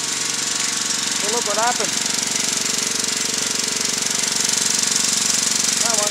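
A small engine fed through a GEET fuel reformer runs flat out at full throttle, a loud continuous rattling roar close by, with someone talking briefly over it.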